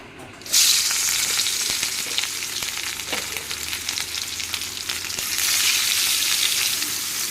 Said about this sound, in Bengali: এখন মাছগুলি বেজে নেই ও মাছ রান্না করবো